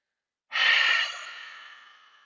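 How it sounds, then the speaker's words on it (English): A single loud open-mouthed "ha" exhale in yoga ujjayi breathing, breathy and close, starting abruptly after silence and fading slowly over about two seconds. "So let's make a ha on the exhale."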